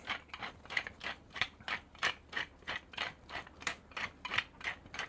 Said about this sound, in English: So I'm just going to grind in some black pepper there.